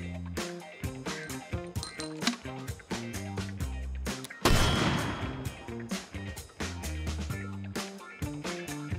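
A mortar fired at a brick in the VR shooter H3VR lands as one sharp, loud blast midway, surrounded by loud rhythmic music.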